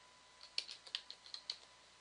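Keys on a TI-Nspire calculator are tapped in a quick, light run of about ten distinct clicks, close and fairly quiet, with no talking.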